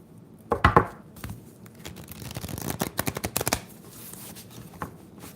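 Cards being shuffled up close, a burst of quick riffling clatter followed by a rapid run of crisp snaps, with no talking.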